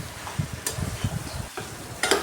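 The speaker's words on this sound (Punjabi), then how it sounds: "ਹੁਣ ਇਹਨੂੰ ਚੰਗੀ ਤਰ੍ਹਾਂ ਸੀ ਕੜਛੀ ਦੇ ਨਾਲ ਮਿਕਸ ਕਰ ਦਾਂਗੇ" A ladle stirs masala potatoes in a hot pan, giving a series of scraping, clattering strokes over a soft sizzle, close and moderately loud.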